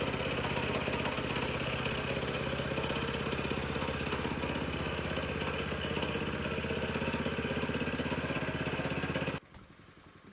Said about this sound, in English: the vibration from the machine's engine at a low idle can accomplish this for us